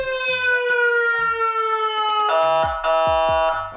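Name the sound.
toy ride-on truck siren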